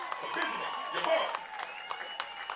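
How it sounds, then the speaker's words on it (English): A baseball crowd at a college game applauds a player's 100th career hit on senior day. The clapping and light cheering are moderate and spread out, mixed with a voice and other tonal sounds over the stadium. "Please give a round of applause for Benjamin Ybarra."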